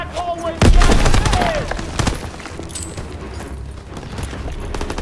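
Rifle fire from an M1 in the Call of Duty WWII mission Collateral Damage, with a loud sharp shot near the start followed by scattered distant gunfire and battle noise throughout.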